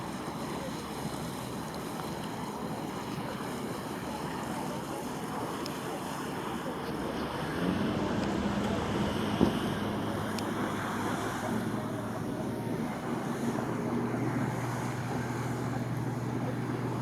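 A motorboat out on the water near an embankment, its engine a low steady drone under wind and lapping waves, fairly distant and faint, with a brief knock partway through.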